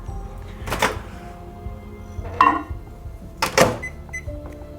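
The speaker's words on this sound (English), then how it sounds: "we're gonna use the microwave" Microwave oven in use while melting chocolate ganache: three loud clunks of the door and controls a second or so apart, with faint short electronic beeps near the end, over a quiet room hum.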